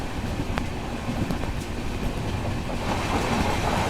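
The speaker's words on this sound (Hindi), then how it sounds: "हम लोग ओवरटेक कर रहे हैं ट्रेन नंबर 10106 सिंधु दुर्ग एक्सप्रेस को।" A train rolls past with a steady rush of wheel and rail noise while overtaking the Sindhudurg Express, heard from onboard the Trivandrum Rajdhani Express at moderate volume with occasional brief clicks.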